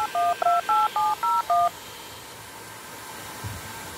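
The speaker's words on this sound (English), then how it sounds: "We're gonna dial." Telephone keypad dialing over speakerphone: six quick, evenly spaced DTMF tone beeps in a rapid sequence, clear and fairly loud, followed by a low hum with faint background noise.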